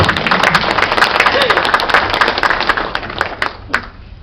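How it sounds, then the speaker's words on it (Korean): Applause from a seminar audience, with individual claps distinct within a lively burst that stays full for a few seconds before tapering off into scattered last claps. "박수 한 번만 부탁드립니다"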